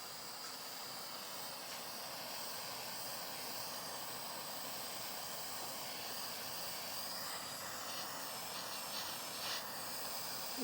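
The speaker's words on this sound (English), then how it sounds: "turn on the butane, and we're just going to heat this thing up a little" A butane torch hisses steadily while warming a stuck governor drive gear on an Edison Opera phonograph, a faint, even broadband rush held for the whole stretch with no talk.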